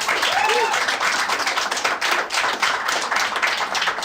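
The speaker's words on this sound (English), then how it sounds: "Not applause from everybody" Scattered, partial applause from a stand-up comedy audience, a steady patter of claps sustained for about four seconds with no talk over it.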